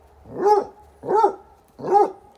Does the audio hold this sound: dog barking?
yes